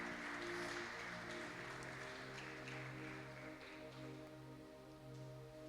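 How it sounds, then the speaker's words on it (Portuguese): A church congregation applauds after a call to praise the Lord, a dense, steady wash of clapping that fills the room for several seconds, with sustained organ or keyboard tones underneath. "Dê a salva de palmas para o nosso Senhor"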